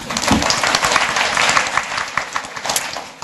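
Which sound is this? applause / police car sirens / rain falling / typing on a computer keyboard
applause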